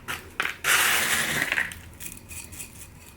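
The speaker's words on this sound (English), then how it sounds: "now we'll top it with the stones" Decorative stones are poured onto the soil of a plant pot, a near crunchy, clinking rattle that swells for about a second, then trails off into scattered small clicks.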